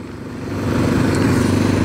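A 650cc V-engine motorcycle runs nearby, its steady low throbbing engine note rising in loudness over the first half second and then holding even, with no talking.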